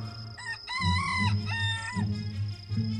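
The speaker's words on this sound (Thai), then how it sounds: "ไก่ป่าส่งเสียงกันขันครั้งแรก" A wild jungle fowl's crow rings out loudly and up close, a drawn-out call over a low steady hum, followed by a second shorter crow.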